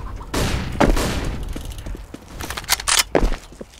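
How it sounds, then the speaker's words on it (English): Gunfire and bursts of noise in a CS:GO match on the Inferno map, with a flashbang going off among shots, loud and close, followed by scattered softer pops and footsteps. "Deploying flashbang."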